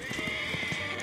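An animated horse whinnies in a drawn-out, tremulous neigh while hooves clop rhythmically underneath, close and fairly loud.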